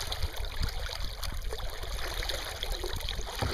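Water from the NE Cape Fear River streams and trickles past a kayak amid snow-covered overhanging trees on a near-freezing day, a steady, gentle broadband rush with no talking.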